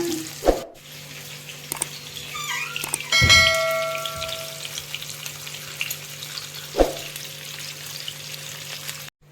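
Fish pieces for an Andhra-style mango fish curry sizzle in oil with a steady hiss, broken by several sharp clatters and a brief burst of water, close and without talk.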